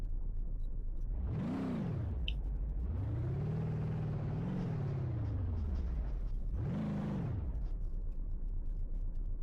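A Grand Marshal "Impala" car driving in BeamNG.Drive, its engine surging loud and close in three rising-and-falling revs, a short burst, a long sustained climb, then another quick rev, over a steady low rumble with no voices.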